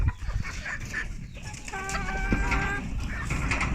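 Chickens cluck and squawk close by as farmyard poultry are let out, with a brief higher rooster-like call in the middle over a busy, noisy background.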